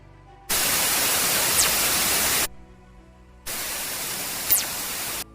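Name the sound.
recorded fast radio burst signal from Voyager 1, static-like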